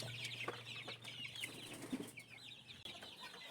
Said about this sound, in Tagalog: Nagkagulo na nga ang mga sisiw sa scratch pen dahil gusto rin nila yung dahon na nilagay ko doon sa isang scratch pen.